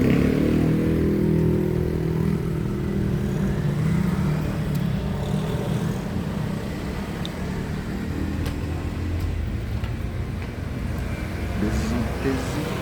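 Early-morning street traffic in Tagbilaran, Bohol, with motorcycles and motorized tricycles idling and passing, a steady engine rumble and drone filling the scene, moderately loud and continuous with occasional clatter.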